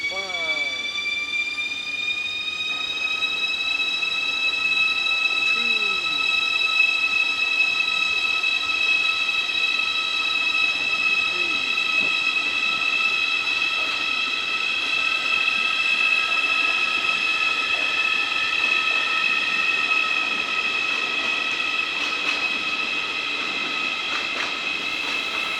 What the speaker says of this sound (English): 9, maybe 10 cars on that train over there that is leaving.